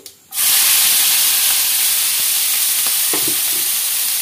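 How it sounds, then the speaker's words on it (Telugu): Chopped onions and two green chillies hit a hot pan for an egg and onion curry, setting off a sudden loud, steady sizzle and hiss after a brief quiet start, with faint stirring clicks beneath. "ఇదిగోండి కట్ చేసి పెట్టుకున్న ఉల్లిపాయలు పచ్చిమిరపకాయలు అయితే 2 వేసేసేద్దామండి"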